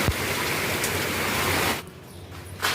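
Light rain falling outside near a balcony on a cloudy day, a steady soft hiss that drops away briefly near the end before resuming, with no talking.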